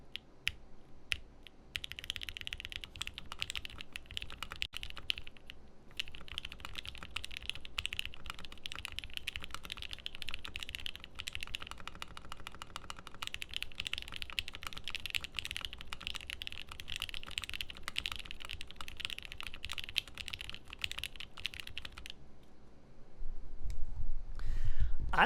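Typing on a Geonworks Frog TKL mechanical keyboard: a dense, steady run of clacky keystrokes, with a deeper bottom-out thock on each press and a higher click as the stem returns, up close and continuous before fading near the end.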